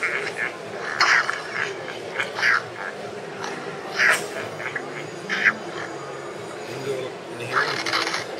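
Angry Birds game sounds on an Archos Gamepad: a series of squawking, quacking bird-like cries at irregular intervals, moderately loud over a busy background, with a voice speaking in the room.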